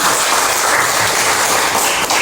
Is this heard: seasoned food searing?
no